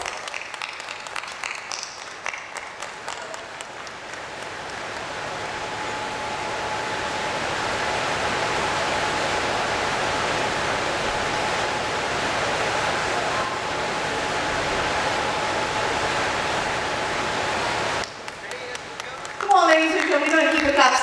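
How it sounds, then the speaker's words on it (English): Sustained round of audience applause at an interior design and architecture awards ceremony, swelling into a dense, even roar of clapping that runs for most of the stretch, with an announcer speaking briefly at the start and end. "Come on, ladies and gentlemen, a huge round of applause."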